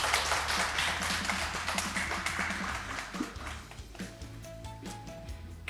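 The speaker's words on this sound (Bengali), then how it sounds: "এর জন্য একটা জোরে হাততালি সকলের" Loud applause for all the pairs on a game show, a dense crowd clapping that fills the first few seconds and then thins and fades, with a low musical tone underneath toward the end.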